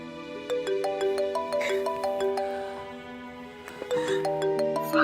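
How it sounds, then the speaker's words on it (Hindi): A mobile phone ringtone plays a bright, repeating melodic chime pattern for an incoming call, fairly loud and close, cycling through its tune twice with no talking over it. "फारिस का फोन।"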